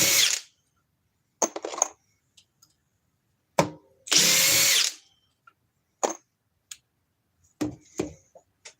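Short bursts of a power drill whirring, several brief spins and one longer run, close by and loud, separated by silences with small clicks.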